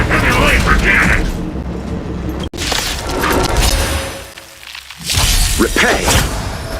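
A heavy laser cannon attack in the video game Honkai: Star Rail: a loud, dense blast of crackling energy and mechanical whooshing with a sharp break partway through, then further surging bursts, with battle voices mixed in.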